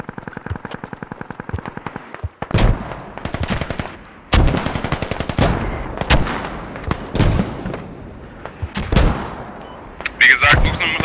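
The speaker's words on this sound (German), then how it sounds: "Die schießen mit einem Mörser." Mortar and gunfire in a video game clan fight: rapid machine-gun bursts trade with heavy, loud thumping impacts and explosions, close and dense, repeated irregularly throughout.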